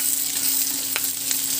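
Dried squid and onion stir-fry in a hot pan, giving a steady close sizzle with a few brief clinks of stirring and no talk.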